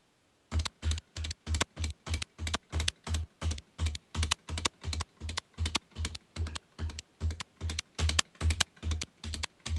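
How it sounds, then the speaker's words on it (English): A computer keyboard is typed on in a steady, even rhythm, each keystroke a sharp close click, repeating about twice a second for roughly nine seconds. "I can hear a sound of a keyboard."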